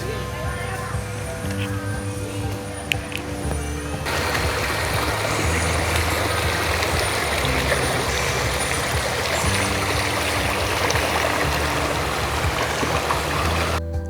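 Water pours steadily at Ton Lad waterfall in Khao Nam Khang National Park, a dense, continuous rushing roar that swells louder after the first few seconds and holds close and even to the end.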